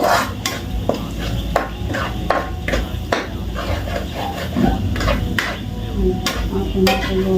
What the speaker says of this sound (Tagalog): Lagay ko na ito ng sibuyas.